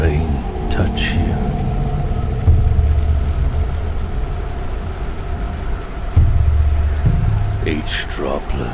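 Steady rain falls in the horror video game Dive or Die, a dense even hiss with a low rumble beneath and a few brief louder bursts, with speech heard throughout.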